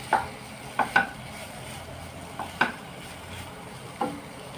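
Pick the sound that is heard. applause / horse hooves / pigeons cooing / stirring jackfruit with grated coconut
stirring jackfruit with grated coconut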